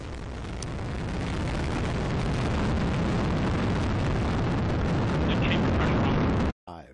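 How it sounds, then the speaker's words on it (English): Atlas V-type rocket lifting off with the Aquarius/SAC-D observatory, a loud, steady, broadband roar that builds and holds for several seconds before cutting off abruptly near the end. "We have ignition and liftoff of Aquarius and the SAC-D Observatory on an international mission to study Earth's salty seas"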